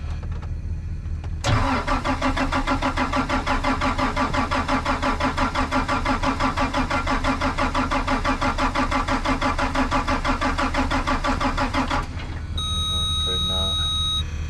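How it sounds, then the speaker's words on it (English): A Case IH tractor engine with problems cranks over for about ten seconds, the starter churning in a loud, steady rhythmic chug up close that fails to catch, then cuts off to a beeping dash warning. "It'll take a while to crank over."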